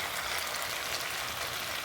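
Sliced ampalaya (bitter gourd) sizzles in a frying pan as it is stirred, a steady, soft crackling hiss with no voices, ending in a brief scrape.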